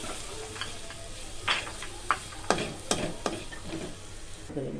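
Spices and ground black pepper being sautéed for street-style ghugni give a soft, continuous sizzle, with a few clear scraping strokes of a spatula against the pan near the middle of the clip and no talking.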